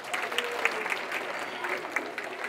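Steady applause from an audience at a hockey team ceremony, dense and sustained with a few sharper individual claps standing out, no talking over it.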